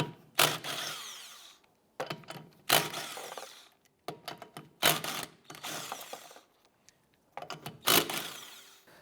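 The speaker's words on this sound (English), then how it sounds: "We're going to go ahead and remove the lug nuts." Lug nuts come off a 2001-2005 Honda Civic rear wheel with a 19mm socket on a power tool, in four loud separate bursts of whirring and rattling with quiet gaps between them, no talk.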